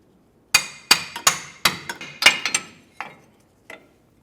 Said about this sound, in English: if you have to use a hammer, you can lightly tap on that